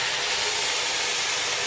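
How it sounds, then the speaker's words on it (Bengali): Potatoes and kohlrabi fry in a pan at an outdoor picnic, giving a steady, close, broadband sizzle that hisses evenly throughout with no voices. "এই যে আলু ভাজা হচ্ছে"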